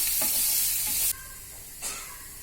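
Chopped onions fry in a pan with a bright, hissing sizzle broken by a few stirring scrapes, then the sizzle drops sharply quieter before another scrape flares up.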